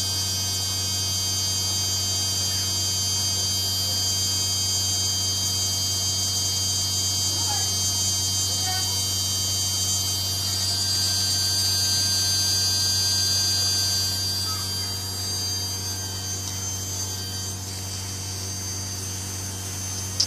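A DC motor runs off a recharging battery setup, a steady electric hum with a high whine held for the whole stretch, close and continuous with no voices.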